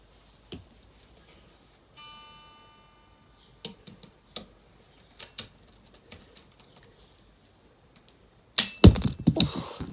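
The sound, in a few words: clip-on guitar tuner being clicked on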